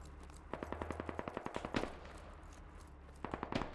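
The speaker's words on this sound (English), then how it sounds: "I hear an AR up there, but I don't see him." Assault rifle fire in the video game Squad crackles in a rapid automatic burst of about a dozen sharp reports, pauses, then fires a shorter burst, fairly distant and moderate in level over a low rumble.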